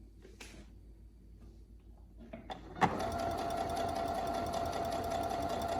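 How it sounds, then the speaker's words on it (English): A sewing machine stitching a cloth face mask starts up after a few faint handling clicks, then runs in a steady, close, continuous whir, alone without talk. "you're going to start sewing"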